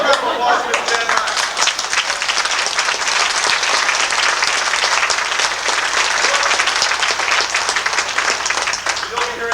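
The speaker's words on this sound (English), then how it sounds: "let's have a little round of applause for Miss Jan Meyer." Audience at a stage production bursts into dense, sustained applause, many hands clapping loudly and evenly throughout.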